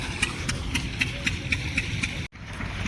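A small tractor engine idles nearby with a steady low rumble and regular ticking pulses, then cuts off abruptly near the end.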